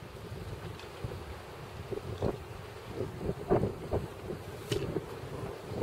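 Gusty wind buffets the microphone outdoors in a hunting area, a faint steady rumble with soft irregular bumps and no voices.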